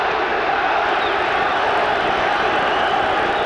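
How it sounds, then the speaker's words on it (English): Boxing arena crowd chanting for Prince Naseem Hamed during his fight with Cesar Soto, a dense continuous roar of many voices that stays steady and loud throughout. "Prince Naseem fans in the crowd chanting Nazi, Nazi, Nazi."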